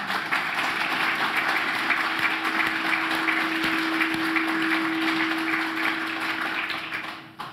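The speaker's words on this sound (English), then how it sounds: "So please, a round of applause for them." Audience applause at an evening event honoring President Kennedy and Mayor Costin, a steady wash of clapping from a room of people that holds evenly and fades out near the end.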